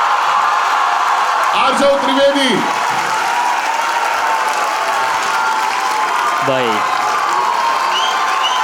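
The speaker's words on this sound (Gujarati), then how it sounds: "with a huge round of applause, let's welcome on the stage team" A studio audience at a Gujarati comedy talk show breaks into loud, sustained applause and cheering that fills the whole stretch, while a voice speaks over the noise.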